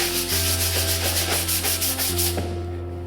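Steady rhythmic sanding of painted chipboard, back-and-forth rubbing strokes that are close and loud, with no voices.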